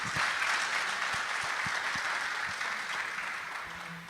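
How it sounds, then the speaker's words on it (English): An audience gives a sustained round of applause at the start of an evening event, a dense, even wash of clapping that fades slightly toward the end. "let us begin this very special evening with a huge round of applause"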